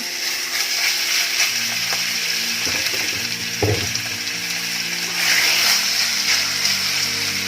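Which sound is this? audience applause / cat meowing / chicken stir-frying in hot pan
chicken stir-frying in hot pan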